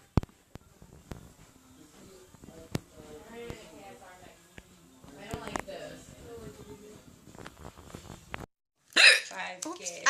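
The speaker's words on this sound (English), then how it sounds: "I have the hiccups and they won't go away" Sharp, sudden hiccups break out at irregular intervals over several seconds, close and loud, with a person talking casually in between them.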